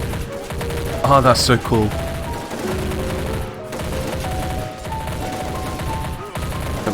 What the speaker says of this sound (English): There's just bullets flying everywhere through the screen.